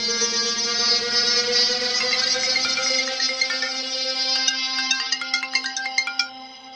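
A mobile phone ringtone plays loud and close as a repeating melodic tune, continuing alone for several seconds with no talk.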